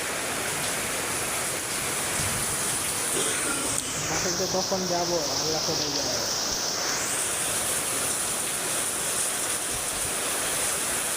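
Heavy rain pours in Tongi, a steady dense roar that fills the whole clip while someone speaks over it.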